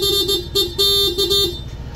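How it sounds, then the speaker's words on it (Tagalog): A loud PIAA auto-style horn on a Honda ADV160 motorcycle honks in several short bursts, with two quick toots followed by longer blasts, close by and alone. "So sa horn, naglagay tayo PIA auto-style horn with horn selector"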